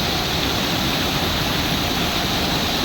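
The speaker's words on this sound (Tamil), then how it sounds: "பவானி நதியினுடைய தண்ணீர் அவல் பூந்தரை பகுதியில் அப்படியே நான்கு பிரிவாக பிரிஞ்சு எப்படி ஊற்றுது பாருங்கள்" Steady, loud roar of Bhavani River water pouring down a waterfall in four streams at Aval Poondurai, continuous and dense with no pauses.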